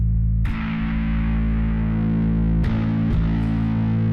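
A bass guitar through a Joyo Monomyth preamp at full distortion rings out in sustained, gritty notes, with a few fresh plucks restriking the string partway through; loud and up close.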